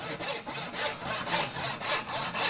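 A hand saw cuts a wood tenon by hand, following an existing kerf toward a gauge line. Steady rhythmic rasping strokes, about five in the span, come close and clear with no talk.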